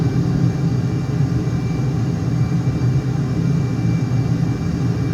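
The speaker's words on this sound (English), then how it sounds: "Do afterburners sound like... Oh yeah, they're super loud." Jet afterburners roar during a turn in Microsoft Flight Simulator, a loud, steady low rumble of engine thrust that holds constant throughout with no talking over it.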